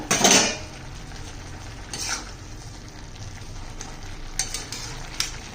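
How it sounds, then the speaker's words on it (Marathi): A lid clatters off a pan of cooking cabbage, a sharp metallic knock at the start followed by a gentle sizzle and a few light utensil taps against the pan. "झाकण ठेवते मी हे आता झाकण काढून पाहूया"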